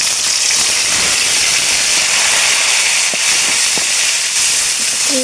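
Cumin seeds and ground spice pastes of chili, onion, garlic and ginger fry in hot oil for an eggplant and spinach dish, giving a loud, steady, bright sizzle with a few small pops throughout.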